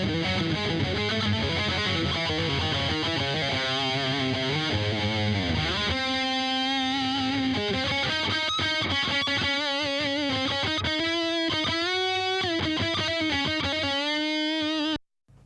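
A distorted electric guitar plays a cover part through a dry signal chain with no channel strip, delay or reverb, a steady run of sustained chords and melodic lines that cuts off abruptly at the end.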